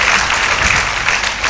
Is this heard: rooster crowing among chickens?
no